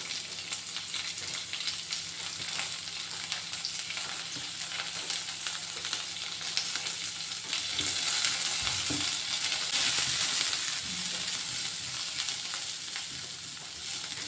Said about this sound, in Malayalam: ആദ്യം തേങ്ങ വറുക്കാം